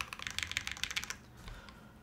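Rapid clacking keystrokes on a mechanical computer keyboard, quiet and close, with a quick uneven rhythm that tapers off after about a second.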